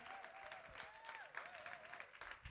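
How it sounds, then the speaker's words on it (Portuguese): An audience at an innovation award ceremony applauds, dense clapping heard faint and distant for a few seconds with a whistling tone above it and no talk. "Aplauso grande."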